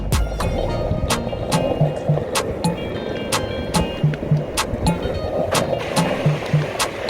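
An electric skateboard rolls over asphalt at low speed, a steady close rumble with regular clicks as the wheels cross seams in the surface.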